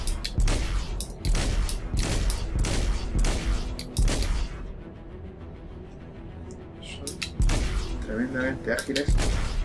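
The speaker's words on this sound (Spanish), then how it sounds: "Este disparo es que no vale para nada." Rapid bursts of spaceship blaster fire in Star Citizen Arena Commander, clustered volleys with mechanical whirs and booms between, fairly loud and busy throughout.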